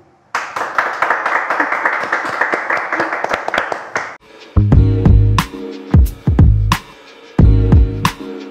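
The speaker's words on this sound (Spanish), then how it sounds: "Un aplauso para Odil" A studio audience claps for a guest on a television program in a dense, brisk burst lasting about four seconds, then gives way abruptly to loud, punchy music.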